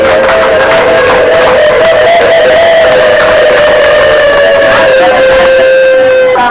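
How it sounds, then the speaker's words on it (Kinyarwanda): Loud, continuous applause and cheering from an audience at an event, a dense wash of clapping with sustained music or droning tones running through it for several seconds. "amashyi menshi"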